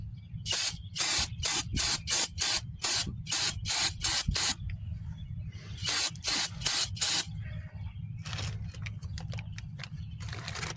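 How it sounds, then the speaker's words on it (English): Quick bursts of aerosol brake cleaner spray hiss in a rapid series onto the front brakes of a 2015 Chrysler 200, a pause, then a few more bursts, with a low mechanical hum underneath throughout. "we're going to spray that with some brake clean first"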